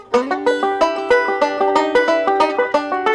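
Banjo in a song break sliding into the normal melody, a rapid even roll of bright, twangy plucked notes played close and without any voice.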